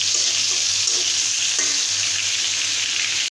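Chopped onion, garlic and salt fry for a fish curry, giving a loud, continuous sizzle with soft stirring scrapes throughout, close and with no talking.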